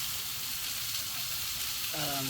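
Mushrooms and tenderstem broccoli fry in garlic oil with a steady, close sizzle, and a brief clatter of stirring comes near the end.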